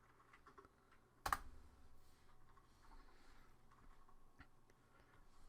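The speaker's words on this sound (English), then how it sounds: "all I can hear is clicking" Mouse and keyboard clicks from a streamer's desk while playing WWE 2K19, faint and sparse, with one sharp louder click early on and soft intermittent taps after it.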